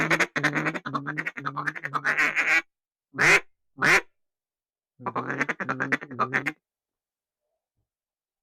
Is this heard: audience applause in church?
no